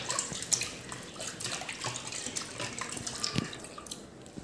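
Lentils being washed with water in a clay pot, a close, continuous sloshing and swishing with light drips and splashes, no voices.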